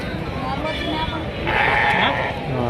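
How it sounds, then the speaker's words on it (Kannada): A young goat kid bleats at a busy livestock market in Kerur, its cries rising over a steady crowd murmur and nearby talk, with a louder, higher bleat near the end. "ಇಲ್ಲಿ ಎಳಗ ಮರಿ ಅದ ನೋಡ್ರಿ"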